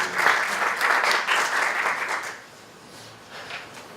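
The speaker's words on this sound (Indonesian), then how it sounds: "Kalau mau tepuk tangan, berikan tepuk tangan" A church audience claps during a service, a burst of applause that rises quickly and fades after about two seconds, followed by scattered lighter claps and room murmur.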